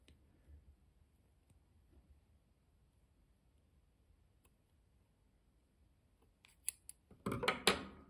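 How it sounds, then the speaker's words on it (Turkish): Scissors snip yarn during needle lace work, a few sharp close cutting clicks near the end after a quiet stretch. "Hemen ipimizi şöyle keselim."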